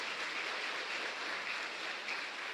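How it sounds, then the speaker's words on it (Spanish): A church congregation claps during Mass, a dense, steady patter of many hands sounding throughout with no voices over it. "un fuerte aplauso también para ellos"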